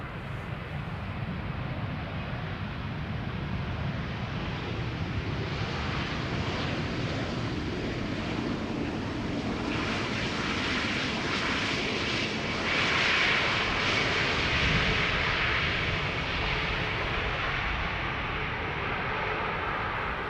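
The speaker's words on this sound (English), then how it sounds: "Let's first have a quick look at the landing of this Neo EasyJet arriving from Belfast." An EasyJet A320neo airliner arriving from Belfast lands at Schiphol Airport, its jet engine roar steady and broad, swelling slightly toward the end, with some wind rumble at the microphone.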